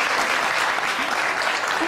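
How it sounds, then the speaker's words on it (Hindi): Dense, steady applause from a crowd, loud and continuous for the whole stretch. "बहुत सारी तालियां इसके लिए।"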